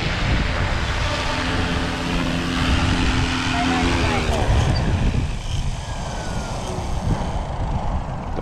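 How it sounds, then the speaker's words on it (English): A small SAB Goblin 380 RC helicopter's rotor whines and buzzes steadily nearby, the pitch sliding down as it settles to land, with wind noise and a voice talking over it. "Very nice little helicopter."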